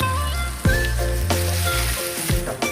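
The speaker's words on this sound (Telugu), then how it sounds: "మీద ఆయిల్ వేసి అల్లం, వెల్లుల్లి, ఉల్లిపాయలు, పచ్చిమిర్చి వేసి కలుపుకోవాలి" Ginger, garlic, onion and green chilli hit hot oil for egg fried rice, a loud close sizzle broken by a few sharp stirring scrapes and clatters of the spoon against the pan.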